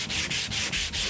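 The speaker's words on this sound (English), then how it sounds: "I'm coming through with a nice, clean, brand new scraper blade." Rough, rhythmic scraping of a new carbide scraper blade stripping paint off wood, about five firm strokes in quick succession, close and loud with no talking.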